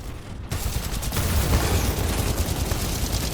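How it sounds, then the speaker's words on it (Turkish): Dense, continuous gunfire from Titanfall 2, a steady sustained barrage of rapid shots and blasts that starts abruptly after a brief quieter moment and stays loud throughout. "Hala biri sıkıyor bak bana ha"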